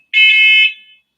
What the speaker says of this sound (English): There is an alarm going on here